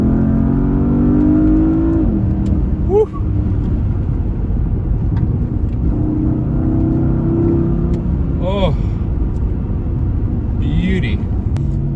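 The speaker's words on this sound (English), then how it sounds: "Let's put it in manual and take a listen to that exhaust note." A 2020 Porsche Panamera Turbo, in manual mode and dropped a gear, revs loudly and rises through the gears, its exhaust roaring up close, with excited exclamations from the driver over it.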